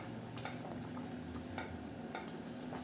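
Semolina upma stirred in a pan over low flame, soft scraping strokes of a spoon recurring every second or so against a faint steady background hum, no voices.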